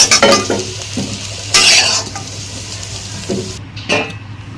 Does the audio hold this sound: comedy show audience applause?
no